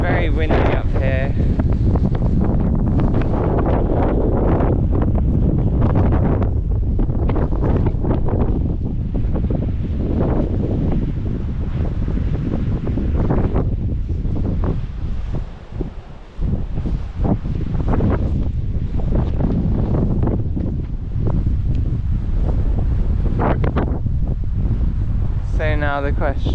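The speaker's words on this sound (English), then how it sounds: "Very windy up here." Steady, heavy wind roars and buffets the microphone throughout on a high coastal path between Fowey and Par, a constant loud rush with occasional gusts.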